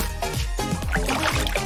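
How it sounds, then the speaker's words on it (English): Water glugs and splashes steadily into a large glass container, loud and close, with repeated gulping pulses as it fills and no talking. "Let's get a large glass container filled with water."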